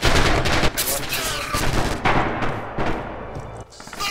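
Dense, continuous gunfire from Red Orchestra 2: Heroes of Stalingrad, an overlapping rattle of rifle and machine-gun shots that stays loud and close from start to finish.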